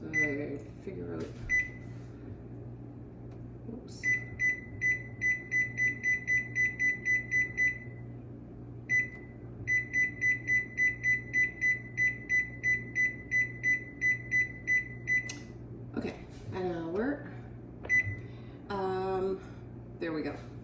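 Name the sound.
oven timer beeping while being set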